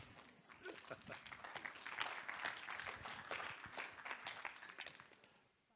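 Applause with scattered claps and cheering rises from an audience at the 2nd International Congress on World Civilizations and Historic Roads, welcoming a US National Park Service speaker on Route 66. It holds steady for several seconds, then fades away.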